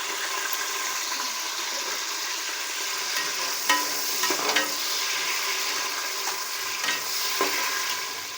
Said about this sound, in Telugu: ఆయిల్ వేడెక్కిన తర్వాత ఎరగడ్లు వేసుకుందాం